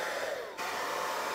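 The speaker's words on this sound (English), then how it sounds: "So I'm gonna put the blow dryer on high" A hair blow dryer runs continuously on high with a cool setting, a loud, close whooshing roar that dips briefly as it is moved, then holds steady.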